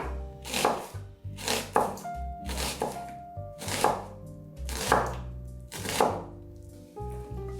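Six knife strokes chop through vegetables on a board, sliced into thin strips, each cut a sharp close thunk in a slow steady rhythm, with soft music beneath and no talk.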